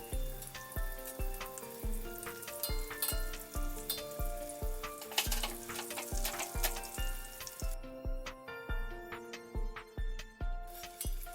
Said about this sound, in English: After one side is red, turn the other side and fry